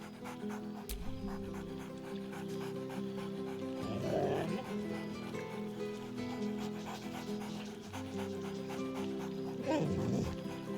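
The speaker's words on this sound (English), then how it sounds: "Scratch barks merrily in something like agreement." Dog panting steadily in Baldur's Gate 3, with two brief bark-like yelps over a continuous game music and ambience bed, moderately faint.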